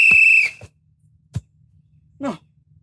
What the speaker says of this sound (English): Are you going to blow the whistle?